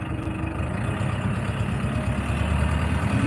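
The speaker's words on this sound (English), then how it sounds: "This is a New Holland tractor." A New Holland tractor's diesel engine runs steadily at close range, a constant low rumble with a throbbing chug and no pauses.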